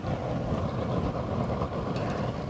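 Wind gusts rumble and buffet the microphone outdoors in a continuous low roar beside a tripod torch fire pit on a summer night.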